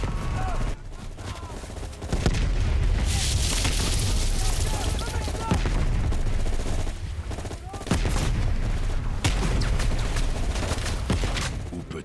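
Battle in Call of Duty: Black Ops Cold War, with crash survivors fighting in Vietnam using an M16: dense rattling bursts of rifle and machine-gun fire, mixed with sharp cracks and heavy booms, loud and continuous throughout.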